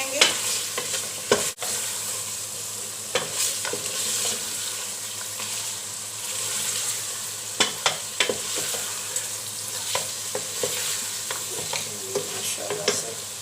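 Garam masala being fried into mutton korma in a pot, a continuous loud sizzle broken by frequent sharp scrapes and knocks of a spoon stirring, with one heavier clank early on.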